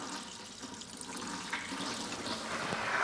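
Soapy water drains from a HarvestRight freeze dryer into a bucket, making a continuous rushing, gurgling flow that swells slightly toward the end.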